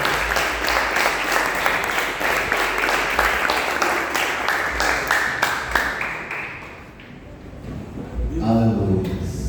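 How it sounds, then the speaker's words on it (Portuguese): Church congregation applauding loudly during a worship service, a dense roar of clapping that swells, then fades out after several seconds as a voice speaks over the tail. "Agora aplauda bem forte."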